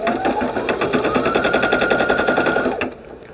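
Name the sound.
embroidery machine stitching with magnetic hoop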